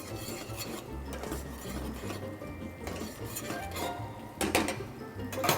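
Tomato sauce being stirred in a cooking pot, a steady scraping and rubbing of a utensil against the pot with occasional clinks, growing louder near the end.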